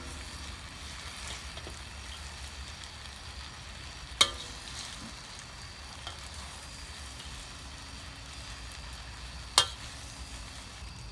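Mee goreng noodles being stir-fried with Malaysian spinach in a wok, a quiet, steady sizzle with faint scraping as everything is mixed, broken by two sharp clanks of a utensil against the pan.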